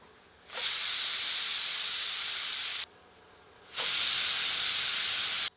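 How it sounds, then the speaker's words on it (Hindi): A pressure cooker on medium heat letting off loud, close bursts of hissing steam, two long sustained blasts separated by a short quiet gap. "अब प्रेशर कुकर का ढक्कन बंद करके 2 सीटियां मध्यम आंच पर देकर इसे पकाते हैं।"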